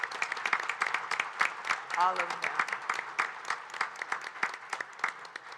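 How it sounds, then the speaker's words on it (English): An audience at a community gathering claps for standing clergy, sponsors and civic leaders, with scattered, uneven claps of moderate loudness and a voice speaking briefly over them. "Would you help me by applauding"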